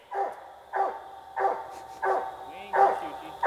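A coon hunting dog barks beside a creek, six evenly spaced, mid-distance barks in a steady rhythm, with faint background sounds between them.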